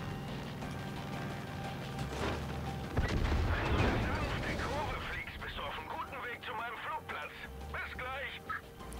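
Bomb blasts and gunfire in the open-world shooter Far Cry 5 give a loud boom followed by rumbling debris and scattered shots, with game radio chatter and voices talking over them.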